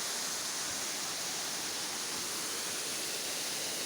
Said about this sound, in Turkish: Nazlı nazlı dökülüyor bu şelalenin suyu